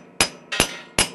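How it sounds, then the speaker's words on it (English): A hammer taps brass transmission seals for a 4L80E on a concrete floor, three sharp, bright metallic strikes spaced evenly and close up. "here I am tapping on brass seals on concrete."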